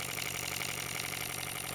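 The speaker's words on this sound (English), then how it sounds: "twin cylinder steam engine" A GAGE TVR1A twin-cylinder model steam engine running on 10 psi of compressed air gives off a steady, rapid mechanical chuffing and whirring. The sound is close and continuous, with no voices.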